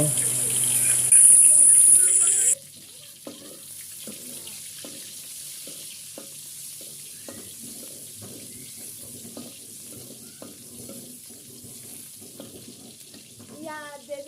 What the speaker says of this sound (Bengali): পেঁয়াজগুলো বাদামি করে ভেজে নেব